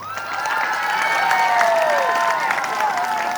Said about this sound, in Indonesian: Tepuk tangan untuk perempuan ini.